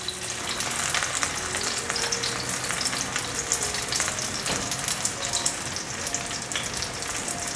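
Dense, continuous sizzling and spattering comes from dried tofu frying on its second side in a pan. It sounds close and even throughout, like light rain, and no one speaks.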